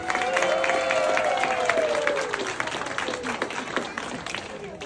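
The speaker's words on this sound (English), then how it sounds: "Give them a round of applause." Audience applause and cheering at a special needs fashion show, full and sustained from the start and tapering slightly, with voices carrying over the clapping.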